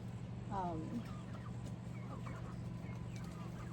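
Backyard chickens cluck in a coop, one bird calling clearly near the start followed by softer scattered clucks over a steady low hum.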